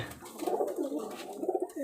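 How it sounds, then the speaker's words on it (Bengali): Domestic pigeon with large feathered feet cooing inside its coop, a soft rolling coo repeated in a few low pulses, close and fairly quiet. "এই কবুতরটা একটু দেখাই এর আবার দেখেন পায়ের ফেদার বেশ বড় কবুতরটার কিন্তু ওই খোপের মধ্যে"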